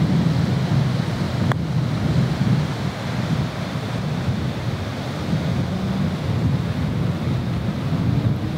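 Strong wind gusts across an open golf course during a match, a steady roaring rush with low buffeting on the microphone throughout, with no talking.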